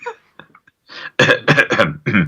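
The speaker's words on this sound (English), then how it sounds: "Now, I had a cough." Several harsh coughs in quick succession, close and loud, preceded by a few quiet throaty sounds.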